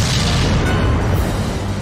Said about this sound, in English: We explode him out.